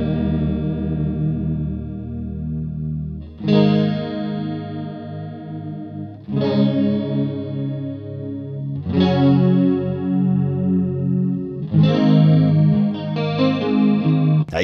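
Guitar chords ring out through a lush CKK Water Drop Chorus pedal, shimmering and swirling, with a few strums spaced several seconds apart.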